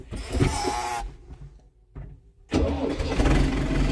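A tractor's engine cranks and starts during field work with a new Sich-9 harrow, first a loud whirring crank, a short quiet pause, then the motor catching and running steadily loud and close.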